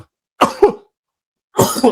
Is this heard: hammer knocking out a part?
no